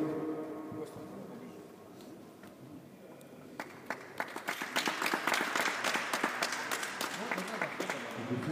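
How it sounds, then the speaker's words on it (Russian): An audience at an amateur running track awards ceremony in Omsk breaks into applause after a champion is announced. Scattered claps start softly and build into steady clapping from a moderate-sized crowd. "Аплодисменты."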